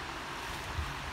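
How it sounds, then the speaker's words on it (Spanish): River water flowing beside a cherry plum tree outdoors, a soft continuous rushing wash with some wind noise, faint and steady with no talking. "árbol está al lado del río, con lo cual podéis estar oyendo cómo canta el agua a nuestro alrededor."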